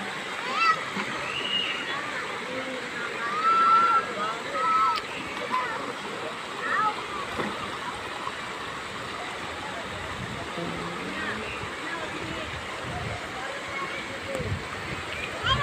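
River water splashes steadily on a hot summer day as people do laundry and bathe, a constant wash of sloshing with brief louder splashes, under chatter and children's voices nearby.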